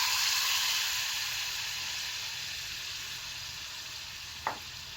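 Tomato sauce hits vinegar and garlic in a hot pan for Egyptian fatta, making a loud, close, continuous sizzle that slowly fades, with a single light utensil knock near the end and no talking.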